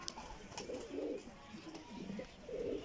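Young flying pigeons in fresh new feathers, including a Kasuri hen, coo several times in soft, close, throaty bursts with short pauses between them.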